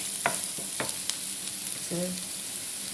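Onions softening in oil in a pan, the filling base for stuffed squid, giving a soft continuous sizzle broken by a few light clinks and scrapes of a spoon stirring.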